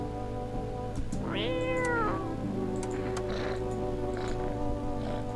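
A cat meows from close by in a yard, with one long rising and falling cry followed by softer, drawn-out vocal sounds over a steady low background hum.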